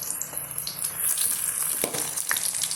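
Bitter gourd sizzles in a pan as it fries on both sides, a close, hissing crackle with a few sharper pops and spatters, steady and without talk.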